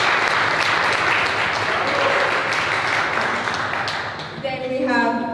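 Steady applause from a conference audience at an event on AI talent in Baja, continuous for several seconds before fading as a voice begins speaking at the end.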